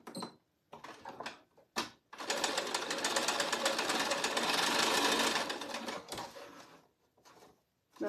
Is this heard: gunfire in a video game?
no